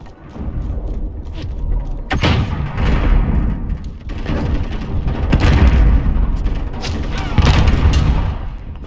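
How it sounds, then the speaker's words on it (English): Cruise missile strikes in Call of Duty: Modern Warfare Ground War land as loud, heavy booming explosions that roll on continuously, with sharp blasts rising out of a dense rumble of battle noise. "Allied cruise missile away. Enemy cruise missile incoming."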